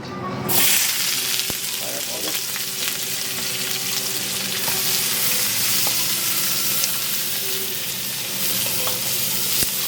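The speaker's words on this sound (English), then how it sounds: "A little bit of oil to fry up the ingredients" Ingredients for Trinidadian pepper pork frying in hot oil: a loud, dense, continuous sizzle with occasional stirring clinks, close up and with no one talking.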